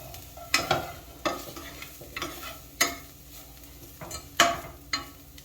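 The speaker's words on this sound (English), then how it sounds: "So we want to try to cook that flour and get that flour taste out of there." Flour roux for homemade cheeseburger macaroni cooks in a pan, stirred in a series of distinct scraping strokes, each a short loud swish over a quiet low sizzle, with no talking.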